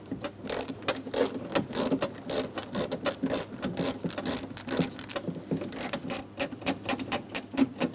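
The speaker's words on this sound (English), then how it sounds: "Now we should be able to remove that Phillips head screw." Rapid ratcheting clicks as a Phillips head screw is backed out of the door of a 2003-2007 Cadillac CTS, steady and close, continuing for several seconds with no talk.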